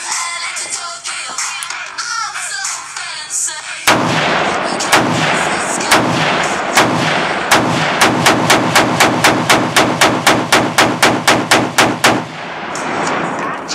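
Rifle fitted with a Sound of Madness muzzle brake fires a barrage: sparse shots at first, then a loud, rapid string of sharp, evenly spaced blasts close by, ending abruptly.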